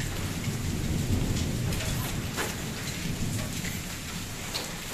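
Steady heavy rain hisses throughout during a hailstorm in Jammu, with low rolling thunder rumbling underneath and a few sharper cracks.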